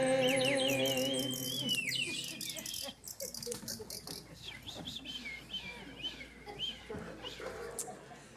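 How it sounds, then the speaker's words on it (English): Bird song sound effects played into a room during a church service, with many overlapping chirps, trills and tweets that mix with insect-like chirping, fairly loud and continuous throughout. "Thank you for those amazing sound effects. I felt like there was real birds in here"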